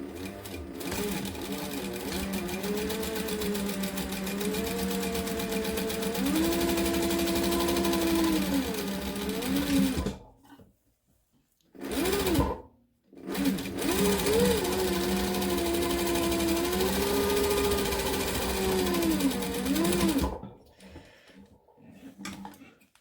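A sewing machine runs a 1/4 inch seam on a center-seam face mask, buzzing steadily for about ten seconds, pausing with short bursts, then stitching again for a long stretch before stopping, close and alone.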